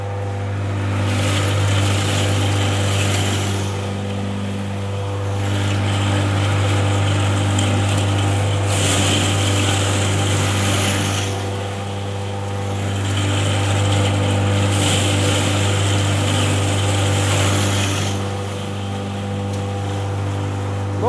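A universal crusher machine grinding pressed alfalfa, a loud steady motor hum with a deep constant drone and swelling, grinding surges every few seconds, running alone without talk.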